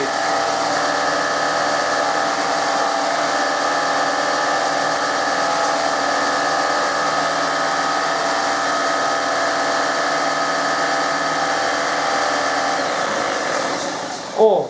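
A PRO CRAFT belt-disc sander runs steadily with a loud, even motor hum and whine throughout, close by, ending with a brief clunk.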